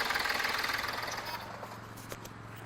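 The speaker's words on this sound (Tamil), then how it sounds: "இந்த இன்ஜெக்டரை 3 புதுசு போட்டதுக்கப்புறம் இந்த என்ஜின் எவ்வளோ ஸ்மூத் ஆகிடுச்சு பாருங்கள்." A car engine idles after three of its injectors were replaced, running with an even, steady hum that fades slightly over a few seconds.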